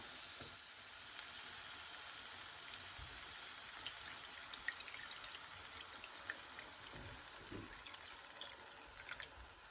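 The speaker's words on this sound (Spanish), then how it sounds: "Lo que haremos ahora es añadirle un poquito de agua." Water is poured into a pan of sweet smoked paprika from La Vera while cooking, giving a soft steady sizzle and hiss with faint bubbling, quiet and fairly constant, with no voices.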